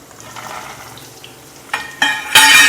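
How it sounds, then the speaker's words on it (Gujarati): Green chillies sauté in a pan for Maharashtrian thecha chutney. Quiet stirring scrapes give way to short bursts of sizzle, then a loud, close, continuous frying hiss. "એને આપણે કલર બદલાવા નથી દેવાનો, થોડુંક સાંતળી લેવાનું છે."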